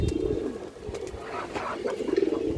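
A big male pigeon gives low, rolling coos up close, a few bubbling phrases rising in strength toward the end over faint background noise.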